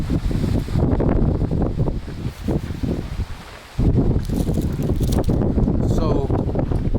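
Wind gusting outdoors at a truck camp, buffeting and rumbling across the microphone in uneven surges, with a short lull before it picks up hard again.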